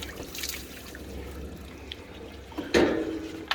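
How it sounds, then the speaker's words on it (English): A hot tub filter drops into a spa pool and water overflows in a quiet background of trickling water. It ends in a brief, louder splash and gurgle close by. "We'll drop it down there, we'll probably get a bit of water overflow"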